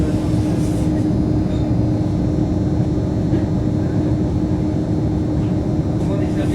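Loud, continuous rumble of a sleek electric passenger train in motion in France, heard from inside, a steady droning roar with no breaks or distinct events.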